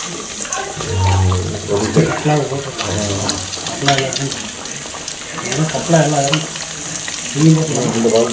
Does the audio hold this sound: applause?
no